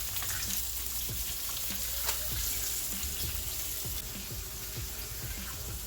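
Festival dough frying in a pan for a Sunday dinner, a steady broadband sizzle with scattered pops and crackles running throughout at a constant close level, with no talking.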